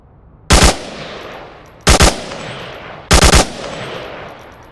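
Three short, loud bursts of automatic gunfire from the VR game Onward, evenly spaced with quiet pauses between.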